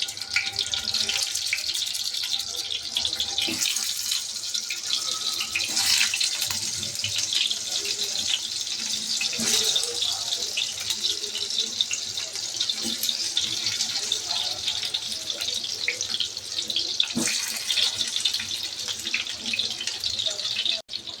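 Stuffed bitter gourds frying in hot oil, giving a continuous bright hiss and crackle that holds steady throughout, with a few soft clanks and faint voices in the background.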